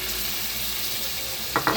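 Dried fish gravy (karuvadu thokku) sizzles and fries steadily in a pan with tamarind water poured in, a continuous crackling hiss with a couple of louder stirring scrapes near the end, no talking.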